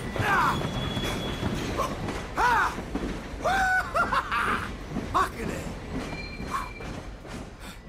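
A train in GTA V rolling along with a steady rumble, overlaid by repeated high metallic wheel squeals and screeches that rise and fall, while voices talk and shout over the noise.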